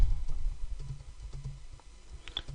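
Soft, quick keystrokes patter on a computer keyboard in an irregular typing rhythm, close and fairly quiet over a low background hum.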